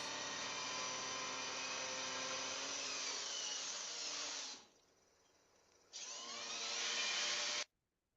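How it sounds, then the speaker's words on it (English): An AI-generated steady, buzzing mechanical sawing runs for several seconds, drops to a quieter stretch, then resumes loudly before cutting off abruptly. "you can see the sawing"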